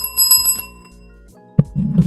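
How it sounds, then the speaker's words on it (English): A small bell is struck several times in quick succession, bright and close, its ringing fading before a low thud follows. "Let me hit my bell before I get out of here."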